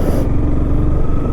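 A Honda CBR 250R standard motorcycle without ABS riding along a road, its engine a steady, close droning hum with wind rush, unbroken for the whole moment.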